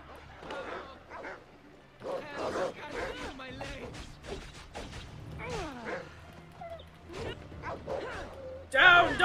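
Dogs bark and yip in an Assassin's Creed Odyssey game scene, short clustered barks and whimpers at close range mixed with other game sounds and brief voices.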